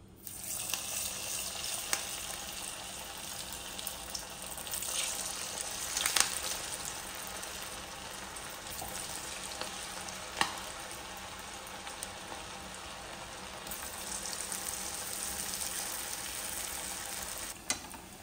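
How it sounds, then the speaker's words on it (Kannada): Drumstick leaf ambade fritters frying in hot coconut oil in a pan give a steady, close sizzle and bubbling that holds for the whole stretch, with a few louder crackles and no voices. "ಎಣ್ಣೆಯಲ್ಲಿ ಕರಿಯುವ"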